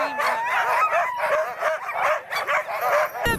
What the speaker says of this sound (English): big dog screaming.